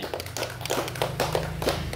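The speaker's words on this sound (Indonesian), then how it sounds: "Ini tepuk tangan paling meriah buat Tuhan." A church congregation at a Sunday worship service claps together, a brisk, steady patter of many hands under a low held tone from the sound system, close and fairly full.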